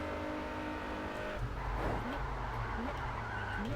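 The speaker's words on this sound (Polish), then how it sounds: "To pewnie to Ferrari leci." A Ferrari rushes past in the racing game Test Drive Unlimited, its engine note sweeping upward through a continuous loud roar of tire and motor noise, close and sustained with no talk.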